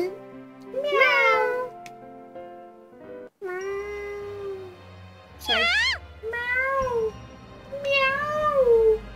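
Cat meows from the video game Rhapsody: A Musical Adventure, several drawn-out, pitch-bending calls spaced across the stretch over background game music.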